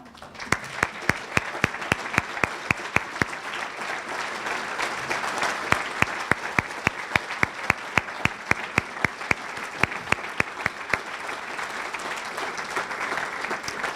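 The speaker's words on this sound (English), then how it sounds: "Would all of our winners please stand for one more round of applause?" Audience applause rings out for award winners at the 2018 East Idaho Real Heroes community celebration, sustained clapping with distinct sharp claps standing out for the full stretch.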